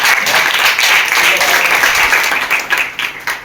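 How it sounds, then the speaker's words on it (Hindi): Audience clapping at a youth team presentation, a dense burst of applause that tapers into scattered claps toward the end, with some murmur of voices mixed in. "तालियां होगी।"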